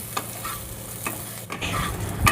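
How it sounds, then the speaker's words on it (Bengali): Bitter gourd stir-frying in oil in a pan: a loud, close sizzle broken by repeated scraping strokes of a spatula, alone with no voices. "ভালো করে উচ্ছেটা নাড়াচাড়া করে ভেজে নিলাম"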